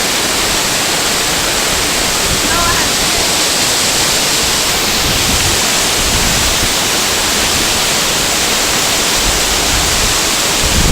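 A waterfall roars close and loud as a steady, unbroken rush of falling water, filling everything with dense noise and no talk.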